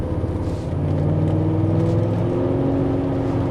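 A Porsche 928 on its first drive gives a low, steady engine burble with a faint whir, loud and continuous throughout with no talking over it.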